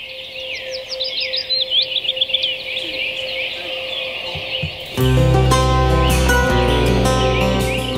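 Several birds chirp and trill in quick, bright phrases over a steady sustained tone, then piano music abruptly takes over halfway through.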